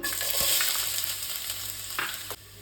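Mustard seeds and ginger sizzle in hot oil in a kadai, a close, bright steady crackle with a couple of sharp spatters and stirring knocks, fairly quiet and without speech.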